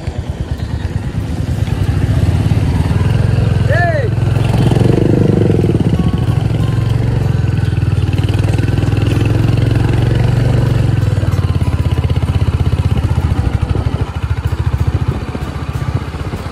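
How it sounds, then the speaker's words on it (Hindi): A motorcycle on a road near the Ramtirtha crocodile project in Mayurbhanj, Odisha, drones steadily close by for most of the clip, its engine holding a loud, even note before easing off near the end. "Tapas bike cross"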